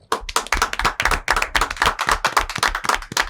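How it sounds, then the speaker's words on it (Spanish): Brief burst of audience applause for a guest on a political talk show, sharp dense clapping close to the microphone, with no voices. "quiero un fuerte aplauso para el invitado de ahora"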